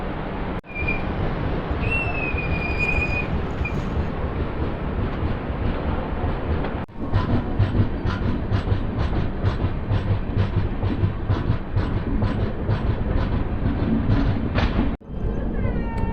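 The Janmabhoomi Superfast Express 12806, running Lingampalli to Visakhapatnam and departing toward Begumpet station, rumbles loudly and steadily on the tracks with continuous wheel clatter and hiss, briefly dipping twice before resuming.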